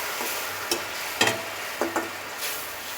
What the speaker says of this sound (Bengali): মশলাটা একটু আমি ভেজে নিচ্ছি তেল ছাড়া পর্যন্ত